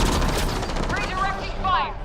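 Rapid bursts of sci-fi weapon fire in the Mass Effect Andromeda video game, loud and continuous with whooshing energy shots, over game sound effects.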